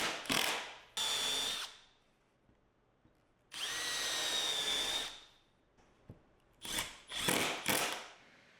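A power drill drives screws into doubled-up plywood on a router sled for flattening slabs, in several short whirring bursts of varying length with quiet gaps, close and loud.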